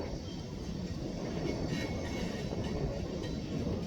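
A single-engine Union Pacific freight train rolls past in Little Rock, Arkansas, giving a steady, fairly loud rumble with faint metallic clinks from the wagons, and no one talks over it.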